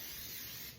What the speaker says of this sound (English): We're just gonna use our favorite olive oil spray and just gently